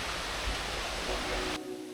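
Rainy-season water pours down Sai Yok Noi waterfall in Sai Yok National Park, Kanchanaburi, as a dense, even roar close by that cuts off abruptly near the end, leaving a quiet hum.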